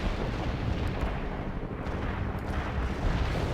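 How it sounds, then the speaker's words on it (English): Artillery barrage in the strategy game World in Conflict, a dense, continuous rumble of booming shell impacts and blasts, loud and close throughout with no pauses. "Launching a barrage. Artillery strike on the way."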